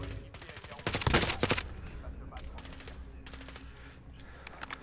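Warzone gunfire in bursts of rapid automatic shots, the loudest cluster early and closer, followed by scattered distant volleys, with some background game noise.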